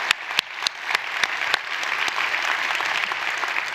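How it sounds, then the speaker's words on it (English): An audience at an education awards celebration in a church applauds, opening with a few sharp individual claps that swell into sustained, dense clapping. "Can we give them a round of applause?"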